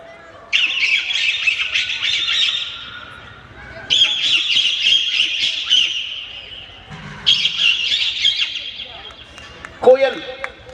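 A mimic's voice imitates a parrot with three loud, shrill squawking bursts separated by short pauses at a Holi celebration in Vindhyachal Nagar, ending with a brief vocal sound.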